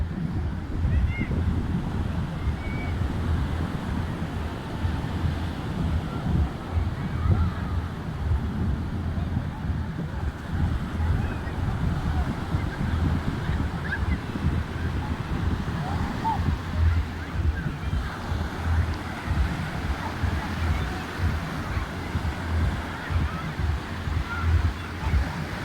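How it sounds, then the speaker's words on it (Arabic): Sea waves wash onto Tamaris beach in a steady, continuous roar of surf, mixed with wind buffeting the microphone and a low rumble throughout. "البحر ديال طماريس"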